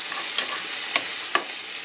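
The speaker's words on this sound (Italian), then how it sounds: "noi andremo a cuocere le nostre cipolle e il nostro lardo o pancetta" Onions with lard or pancetta frying in a pan, a steady close sizzle with a few sharp stirring clicks from a utensil against the pan.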